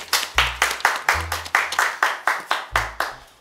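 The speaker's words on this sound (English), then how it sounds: "A round of applause for him." Clapping for a guest on a talk show, close, loud and rhythmic, with about a dozen evenly spaced sharp claps, as if from one or a few people clapping in time.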